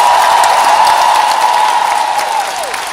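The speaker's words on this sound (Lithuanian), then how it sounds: "Dar kartą jiems aplodismentai." Audience applause for Lithuanian music performers at a 2014 concert in Žalgiris arena, a dense, steady wash of clapping that fades slightly toward the end, with a faint whistle-like tone over it.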